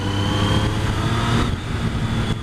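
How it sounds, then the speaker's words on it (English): A 2012 Triumph Street Triple's exhaust rumbles close and loud, a steady low engine drone that sags slightly in level partway through, with no voices over it. "the exhaust pops and bang. Well, it doesn't bang, but it rumbles"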